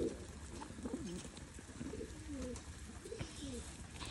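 A pigeon in a village farmyard gives a series of soft, rolling coos, repeated several times at close range over a faint background hum.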